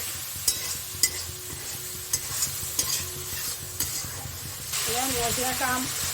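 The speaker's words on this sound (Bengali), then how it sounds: "এবার অল্প একটু জল দিলাম, মশলাটা ভালো করে কষে নেব" Masala stir-fried in a pan with a splash of water for a chicken murg badam dish, a steady close sizzle broken by sharp spatula scrapes and clinks, swelling into louder bubbling hiss near the end.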